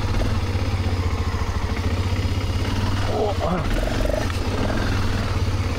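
A motorcycle engine drones steadily throughout, a continuous low rumble with a brief rattling clatter partway through.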